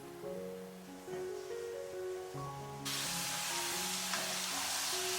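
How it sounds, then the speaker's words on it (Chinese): Peanuts with a garlic clove fry slowly in oil over low heat, a soft sizzle that swells into a louder steady hiss partway through, under a gentle musical background. "花生米需要冷油下锅，调小火慢炸"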